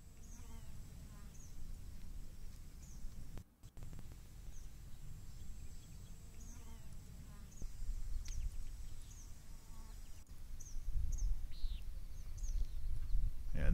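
Outdoor field recording of a quiet field where small birds chirp in short, scattered calls at a distance over a low, breezy rumble and a faint insect-like buzz, with one brief dropout midway.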